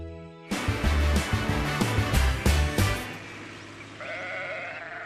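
A loud burst of bleating and clattering sounds, several sheep calling one after another, then a quieter single bleat trails off at the end.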